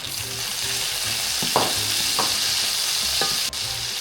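Cherry tomatoes frying with garlic in a pan give a steady close sizzle, with a few sharp stirring scrapes and pops breaking through, and nobody speaks.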